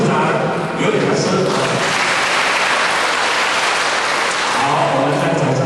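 Sustained applause from a seated audience opening a symposium of a Yiguandao association, a dense, steady wash of clapping that stays loud and even for the whole stretch.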